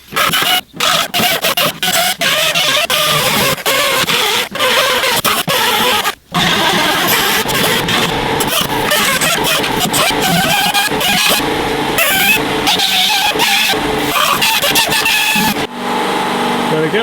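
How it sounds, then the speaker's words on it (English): A grinder works over rotted sheet steel on a bus body, opening up a corroded area. Harsh, loud, continuous grinding fills the scene up close, broken by a few brief stops and changes in pitch. "we'll get the grinder out"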